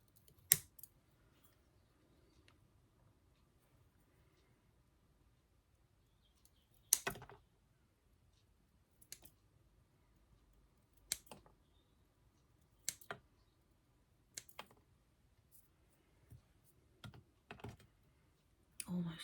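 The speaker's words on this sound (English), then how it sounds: "I love these new snippers." Small snippers cut succulent stems and pluck away leaves in a quiet room, giving sparse, sharp clicks and snips spaced several seconds apart with near silence between them.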